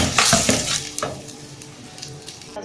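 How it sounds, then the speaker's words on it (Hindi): Onions sauté in ghee and oil in a pan, with loud spatula scrapes and clinks over a sizzle that fades from busy to a softer, steady frying hiss. "पैन में मैंने प्याज डाल दिए। इसको मैं हल्का सा सौते करूँगी।"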